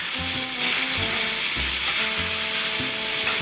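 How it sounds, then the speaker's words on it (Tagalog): Pork steak sizzling loudly in hot oil in a pan, a steady close crackling hiss throughout with occasional lower clunks of the pan or utensil. "So, ganyan talaga pag nagsisisling ka."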